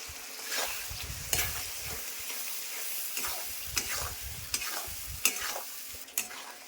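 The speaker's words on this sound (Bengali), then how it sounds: "এটা ভালো করে মশলাটা কষাতে হবে" Ground spice paste with turmeric sizzles in a hot pan while a spatula scrapes and stirs it in repeated strokes, a steady close fry broken by regular scraping bursts.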